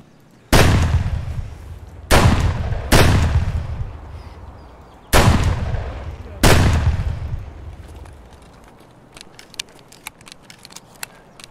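Five heavy gunshots ring out in Escape from Tarkov, fired through a wall at close range, each a loud sharp crack with a long decaying tail, spaced irregularly over several seconds, followed by faint clicks and rustles.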